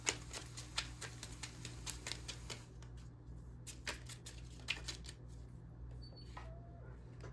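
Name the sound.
shuffling Kipper cards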